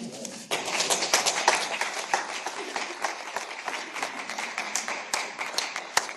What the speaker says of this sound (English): let's give David another round of applause